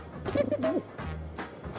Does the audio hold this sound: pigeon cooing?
yes